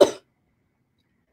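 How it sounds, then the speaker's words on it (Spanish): One short, sharp cough close to the microphone, followed by silence. "perdonen la tos"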